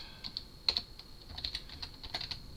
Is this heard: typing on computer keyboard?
yes